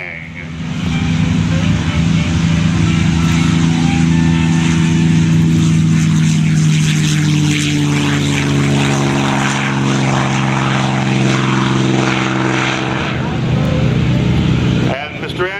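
A polished P-51 Mustang propeller fighter passes at an air show, its piston engine a loud, steady drone with strong low harmonics that swells and shifts pitch for most of the pass, then cuts off abruptly near the end.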